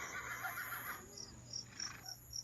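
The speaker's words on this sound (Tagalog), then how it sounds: "pwede mo lagyan ng sound effect ng kabayo" Horse neighing sound effect playing quietly in the background of an indoor ghost-hunting scene, with repeated high whinny-like calls over a faint steady hum and no one talking.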